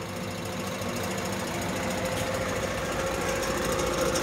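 A Leblond Regal 13 x 30 inch gear-head lathe runs at its lowest speed of 45 RPM, giving a steady, dense mechanical drone with gear whir that stays even throughout with no pauses.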